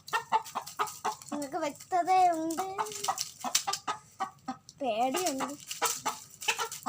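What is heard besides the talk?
chicken clucking while fighting a snake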